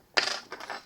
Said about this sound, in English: Let me put few screws.